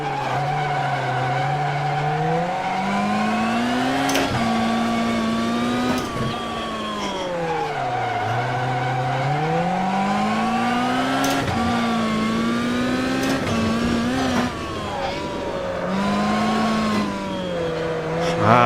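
A rally car in the AMS1 racing game revs loudly, the engine note climbing and falling, with sustained tyre skidding throughout as the car slides, and no talking.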